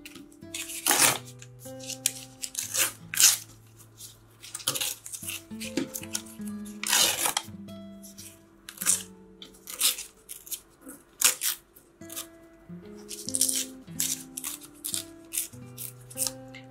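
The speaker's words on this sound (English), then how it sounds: "This doesn't even want to tear for some reason." Paper pages being torn and ripped for a handmade ephemera booklet, with repeated sharp crackling rips in irregular bursts, close and fairly loud, separated by quieter handling and rustling.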